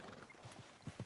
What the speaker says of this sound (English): I'll take his horse.